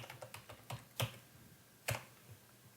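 Someone types a password on a computer keyboard in a handful of sharp, irregular keystrokes, two of them noticeably louder, with quiet gaps between and no talk.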